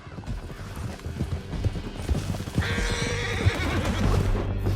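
Horse hooves clip-clop at a gallop in Red Dead Redemption 2 during a canyon chase, with a whinny and rising rushing noise as the ride picks up, loud and close.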